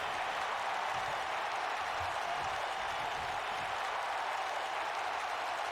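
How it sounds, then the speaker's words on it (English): Arena crowd in a WWE 2K wrestling game at an NXT show roars with steady applause and cheering, a dense, continuous wash of sound with no voices rising above it. "The crowd comes alive."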